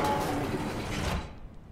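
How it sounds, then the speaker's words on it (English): A heavy mechanical door slides shut in the sci-fi horror game SOMA, a loud grinding rumble that carries for about a second and then cuts off into quiet. "I'm gonna close this door, okay, Catherine?"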